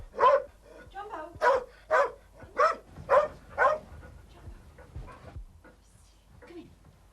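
A Labrador guard dog named Jumbo barks at night, six loud, evenly spaced barks close by, followed by softer whines and sniffing.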